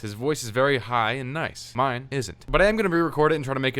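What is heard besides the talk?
No everyday noises stand out.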